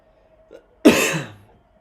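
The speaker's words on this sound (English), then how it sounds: "Excuse the coughing, folks." A single short, harsh cough bursts out close to the microphone after a faint earlier throat sound, then trails off into quiet, during a live boxing watchalong.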